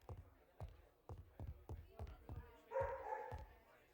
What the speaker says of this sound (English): Apologies if you hear my dog barking.